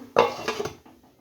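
A metal lid drops onto a cooking pot of fish and pointed gourd curry with a sharp clank. A brief rattle follows as it settles, then quiet.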